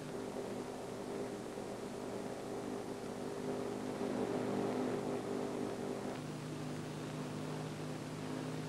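Aircraft engines drone steadily in a broad, even rumble inside the plane, a continuous mid-level hum that shifts slightly in pitch partway through, with no talking.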